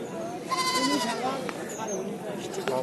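Native goats bleating close by at a goat market in Naogaon, several wavering calls overlapping, with people talking in the background.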